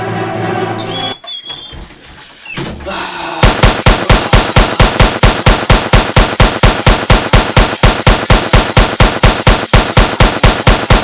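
Video game gunfire: after a few seconds of quieter game sounds, a long rapid automatic burst of loud, evenly spaced shots rattles on without pause, close and dominant.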